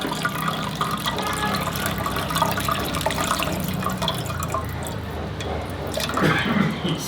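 Water from boiled rice pours and splashes steadily, draining through a strainer, with a continuous wet rush and some dripping near the end.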